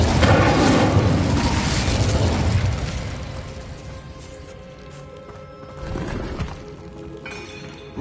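An Incendio fire spell blast in Hogwarts Legacy played on PS5: a loud whooshing burst that rumbles for a couple of seconds and fades, followed later by a smaller flare-up and a sharp pop at the end.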